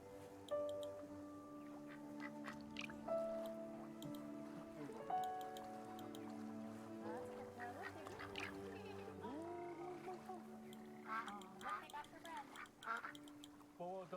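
Ducks quack at a pond in the video game Dragon Cancer, repeated calls over a layer of game music, with people talking across the scene.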